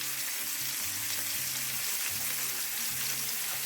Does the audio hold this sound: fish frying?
yes